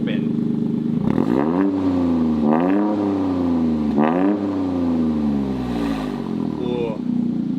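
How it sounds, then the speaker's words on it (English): A 2023 Toyota GR Corolla with a new exhaust, valves open, revs three times, each blip climbing and falling back to a loud, steady idle that continues throughout. "Car is on. It's a couple of revs."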